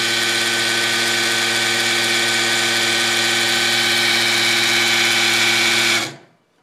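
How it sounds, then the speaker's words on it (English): A power drill spins steadily to prime the oil pump on a Chevy 350 engine, a loud continuous whirring hum with strong harmonics that holds even for about six seconds, then winds down abruptly to silence. "You don't want to sit here and watch this drill spin for 2 minutes."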